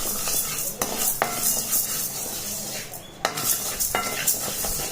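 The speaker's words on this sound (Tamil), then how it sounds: "லோ ஃப்ளேம்லேயே வச்சு நம்ம வறுத்துக்கலாம்" Chana dal dry-roasting in a pan on a low flame, stirred with a spoon that scrapes and clinks against the metal over a faint, steady sizzle, close and continuous with a few sharper knocks.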